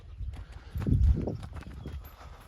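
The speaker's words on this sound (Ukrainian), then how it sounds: "Кобила приїхала з Бучича, села Ліщанці від Олега." A mare's hooves clip-clop on hard ground at a walking pace, close by, a steady run of knocks with faint background murmur.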